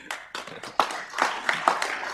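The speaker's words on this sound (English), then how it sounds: "I think that's too much applause, given the introduction I just got." A few people clap at an outdoor dedication ceremony for a diversion inlet structure, giving sparse, uneven claps with sharp individual slaps close by.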